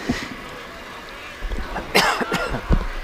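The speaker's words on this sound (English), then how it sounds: "Now I want to cough in the frog in the throat" A cough or throat clearing from a baseball broadcast announcer, a couple of short rough bursts near the mic over steady crowd and field ambience.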